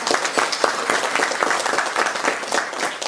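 Dense, steady audience applause fills a large room at a FAW factory visit, many hands clapping together loudly and continuously with no voices above it.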